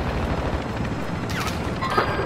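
Dense, loud gunfire and booming impacts from the video game Call of Duty MW2 DMZ roll on almost without a break, with a few sharper cracks near the end.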